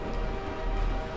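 A train rumbles past in the video game Half-Life 2, a dense steady roar of rolling noise over a brief stretch, loud and with no voices.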